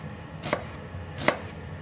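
Two crisp knife chops through an onion on a cutting board, evenly spaced about a second apart, close and clear over quiet room tone.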